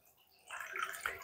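Water from a tap running over a fishing reel to rinse off salt, a soft trickle and splash that swells after a quiet start, close by with no voices.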